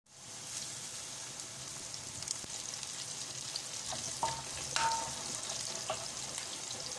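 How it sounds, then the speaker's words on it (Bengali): Onion and green chili frying lightly in oil for a bitter gourd dish, giving a steady close hiss with a few louder crackles and pops in the middle, with no voices. "করলা ভাজিটা করার জন্য আমি পেঁয়াজ আর মরিচটাকে তেলে দিয়ে মানে হালকা ভেজে নিয়েছি"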